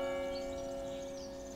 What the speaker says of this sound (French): j'entends la cloche